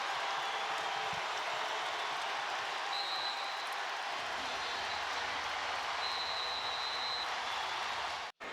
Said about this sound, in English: you could hear the crowd